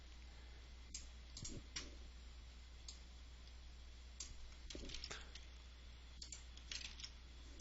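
Light plastic clicks and key taps from a computer keyboard and mouse, scattered and irregular, faint and close in a quiet room, with no talking.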